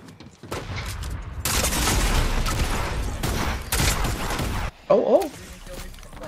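Pistol gunfire in a video game: dense, loud bursts of shots crackling almost nonstop for several seconds, then a sudden drop to a quieter stretch with a few scattered sounds.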